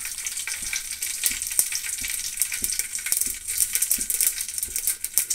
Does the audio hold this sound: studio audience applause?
no